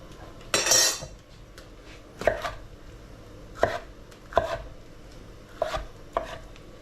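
A kitchen knife chops peppers on a cutting board in a handful of crisp, separate strokes spaced about a second apart, close and clear with no talking.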